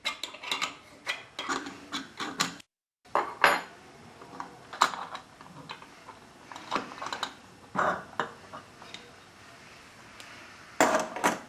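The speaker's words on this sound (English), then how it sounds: "Loosen and remove the upper clamp." Metal clamp on an Alfa Laval Unique SSV stainless valve being loosened and removed, close clinks, scrapes and ratcheting taps in short irregular bursts with a brief silent gap.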